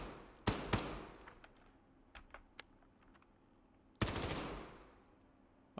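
An MP5 submachine gun fires in a video game: short bursts of sharp rapid shots, a loud opening volley, scattered single cracks, then another heavy burst, with no talking.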